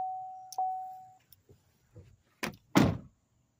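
A steady electronic chime tone sounds, followed by a few soft clicks and then two sharp mechanical clunks as the power door locks of a 2014 Chevrolet Impala Limited engage, close and clear.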